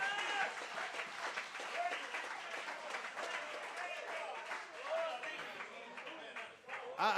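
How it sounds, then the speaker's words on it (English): A church congregation claps for the Lord during a sermon, quick irregular hand claps mixed with voices and shouts, moderately faint overall. "Let's give the Lord a hand clap."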